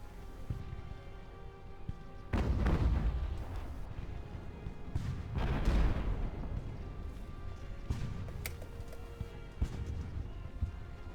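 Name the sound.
cannon fire from an enemy ship, Ultimate Admiral: Age of Sail video game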